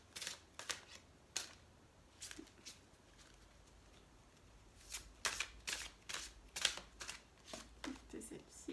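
Oracle cards shuffled and drawn from a deck for a Capricorn tarot reading, with repeated crisp riffling and flicking bursts, close and fairly quiet, some clusters rapid, others spaced over several seconds.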